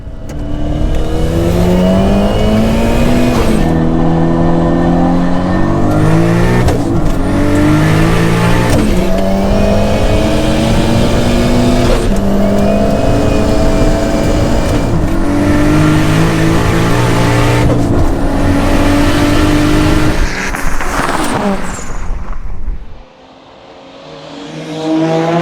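A 520HP Ford Sierra RS500 and a 560HP Toyota Supra drag racing, engines screaming loudly up through repeated gear changes with rising and falling pitch for over twenty seconds before abruptly fading away.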